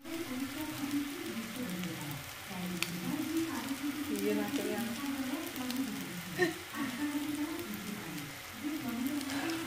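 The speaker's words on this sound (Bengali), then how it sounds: "এই যে বেগুনটা ভাজতে দিলাম" Eggplant frying in a pan, a steady close sizzle with crackling throughout, without talk.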